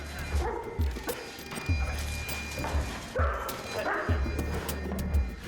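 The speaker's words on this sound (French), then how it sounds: "l'attaque de 2 chiens muselés" Two muzzled police dogs of an elite French police unit bark during attack training, a loud series of short, muffled barks repeating in an uneven rhythm over busy background noise, with some voices faintly present.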